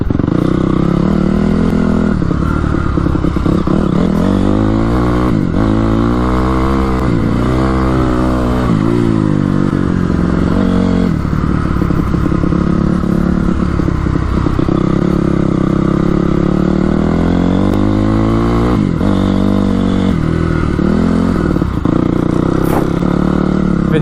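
A dirt bike engine revs hard and loud, climbing and dropping in pitch over and over with a raspy, close-up roar throughout.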